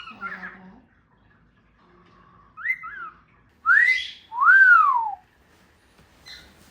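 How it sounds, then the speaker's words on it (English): A pet bird gives a clear two-note wolf whistle, a rising then falling sweep, after a few softer chirps and short whistled notes in an otherwise quiet room. "Who taught him to wolf whistle like that?"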